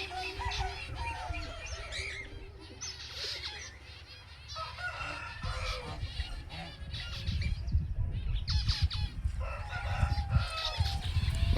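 Chickens clucking and a rooster crowing on a farm in the morning after rain, many birds calling steadily and overlapping at mid distance over a continuous low rumble of background noise.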